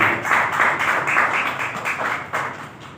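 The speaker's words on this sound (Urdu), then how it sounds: "آئیے خداوند کے لیے زوردار تالیاں بجا دیجیے" A church congregation at a Wednesday worship meeting claps loudly and steadily, a dense, sustained wash of many hands throughout with no talk over it.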